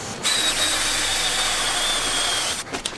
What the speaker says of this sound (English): step one is to drill a hole